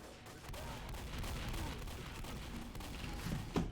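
Gunfire from the video game Left 4 Dead, a dense sustained volley of shots rattling continuously at high level, with a sharper bang near the end and no voices over it.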